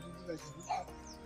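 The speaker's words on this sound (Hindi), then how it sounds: "कुत्ते भौंक रहे हैं पता नहीं क्यों" Dogs barking at the gate of a Buddha temple in Pithoragarh, two short distant barks heard faintly beneath a nearby person's talk.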